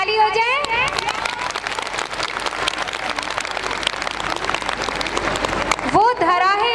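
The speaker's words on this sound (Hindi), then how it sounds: "तो इसी बात के लिए ताली हो जाए।" An audience at a Hindi devotional gathering honouring Shri Ram and Shiva bursts into sustained clapping that carries steadily for several seconds, while a voice talks over the start and end.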